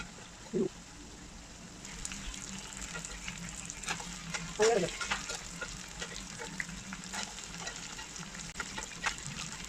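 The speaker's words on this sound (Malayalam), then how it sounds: "ചിക്കൻ പൊരിക്കുന്നു." Chicken fries in hot coconut oil for a chicken biryani, a continuous close sizzle with crackling spatters and a couple of louder bursts as pieces go into the pan.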